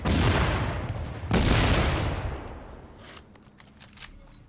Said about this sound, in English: you see how it explodes on every shot?